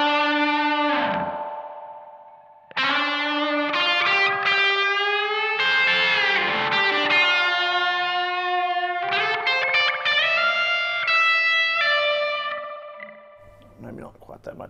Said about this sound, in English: You can just hear that delay starting to take off when I play.